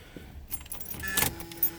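Keys jangle, then the starter kicks over the engine of a 1976 Chrysler New Yorker. It catches within about a second and settles into a steady low idle, close and fairly quiet.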